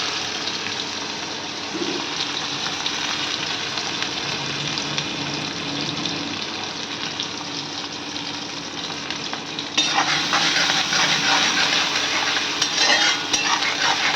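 Chopped onions frying in hot oil with cumin seeds in a home kitchen pan, a loud continuous sizzle with stirring scrapes, growing brighter near the end, no voices.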